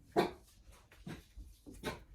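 A dachshund barks indoors in a few short, sharp yaps, close and fairly loud, with brief pauses between them and no talking.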